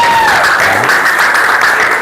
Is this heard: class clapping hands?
yes